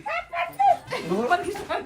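A chained dog yips and whimpers in short repeated bursts, close by, mixed with people talking loudly over it.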